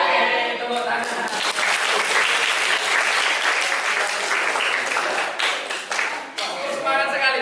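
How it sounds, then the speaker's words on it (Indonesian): A class of students claps together on their teacher's cue in a school setting, producing a dense, steady burst of applause that runs for several seconds with a couple of brief dips, faint voices mixed in. "Oke, tepuk tangan."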